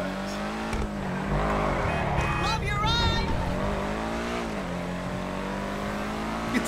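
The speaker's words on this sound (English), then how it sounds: "A car without the handling flag." A car without the advanced handling flag driving in GTA Online, its steady engine drone running throughout with a brief rising rev and squeal midway, all under continuous talk.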